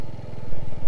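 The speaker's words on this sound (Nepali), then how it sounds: "Apache RTR 200 let's go" A TVS Apache RTR 200 motorcycle engine runs nearby with a steady, throbbing low idle pulse, brief and fairly loud.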